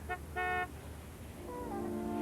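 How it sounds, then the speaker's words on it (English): A car horn honks outside, two short toots in quick succession, clear but somewhat distant, followed by a steadier tonal hum under quiet room ambience. "Well, that's Dean out there honking."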